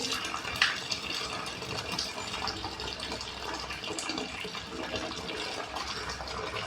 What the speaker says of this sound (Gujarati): એવા આપણે ઊનું પાણી નાખીએ આમાં